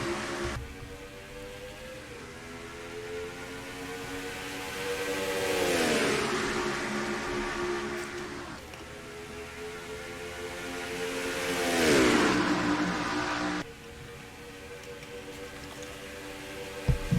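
Race cars at Chicagoland Speedway in NASCAR Racing 2003 pulling away at the start of a lap, a steady layered engine drone with two rising, swelling passes as cars rev and sweep by at moderate level.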